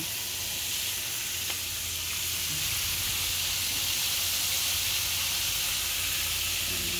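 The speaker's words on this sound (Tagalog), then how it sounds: "Ayan ang pagluto ng fried chicken namin." Chicken frying in hot oil gives a steady, bright sizzle and hiss that holds evenly from start to finish, close up and uninterrupted, with no talking.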